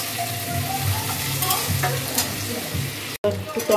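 Onions sizzling in a hot pan while they fry toward a reddish colour, a close steady crackle broken by spatula stirs, then a brief cut to a quieter stretch of frying.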